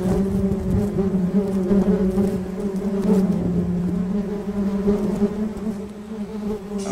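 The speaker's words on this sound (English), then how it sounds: "look at millions of bees" A dense swarm of honeybees buzzes steadily around a large wild honeycomb, a loud, continuous drone close by with no talking.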